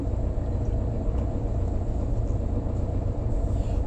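A Tatra car engine runs steadily on a drive, a low continuous rumble with constant motor drone and no breaks, moderately loud and alone.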